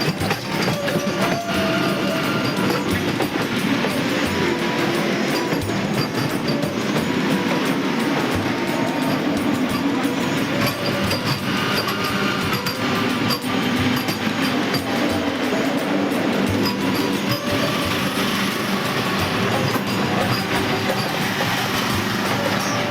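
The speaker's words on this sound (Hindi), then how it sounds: "इसके आते ही अपनी ट्रेन भी चलना शुरू कर देती है" Howrah Jaynagar express passenger train rolling along the rails, a steady loud rumble with rhythmic wheel clatter heard from on board, continuous throughout.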